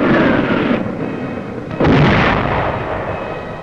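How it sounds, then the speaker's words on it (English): Artillery and mortar fire in a World War II battle at San Pietro roars as a dense, continuous rumble, with one sharper, heavier blast breaking through partway and the loud barrage carrying on without any voices. "a wall of automatic weapon, mortar and artillery fire"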